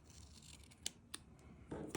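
Quiet, close snips of scissors cutting a sticker sheet, two sharp clicks spaced apart followed by a louder rasping cut at the end, with no talking.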